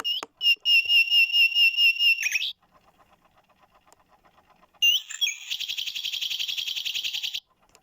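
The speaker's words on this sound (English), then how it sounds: "10 o'clock is the nightingale." A British bird clock sounds its ten o'clock nightingale recording, a loud run of repeated whistled notes, a pause with faint ticking, then a rapid trilling phrase, close and clear with no voices.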